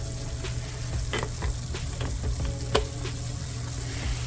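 Ground turkey sizzles steadily in oil in a pan, a dense continuous frying hiss with occasional pops and the scrape of stirring, close and loud with no voices.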